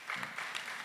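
Brief burst of audience applause at a commission event in Cyangugu, a steady patter of hand claps filling the short moment without speech.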